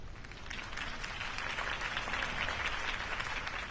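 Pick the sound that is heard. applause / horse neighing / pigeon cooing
applause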